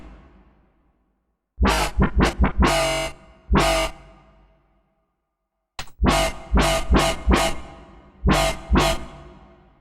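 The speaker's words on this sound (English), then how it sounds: "So we have some of the verb to it." A distorted synthesizer bass made in the Massive synth plays with reverb, punchy stabs in two rhythmic groups separated by a pause, each hit ringing out in a decaying tail.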